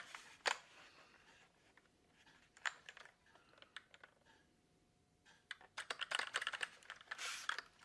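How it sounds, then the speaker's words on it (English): Someone types on a computer keyboard with a thick spacebar: sparse, close clicks and taps that build into a denser run of keystrokes toward the end, in a quiet room. "Listen to that spacebar as well."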